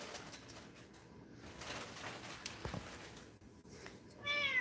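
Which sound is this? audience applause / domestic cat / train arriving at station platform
domestic cat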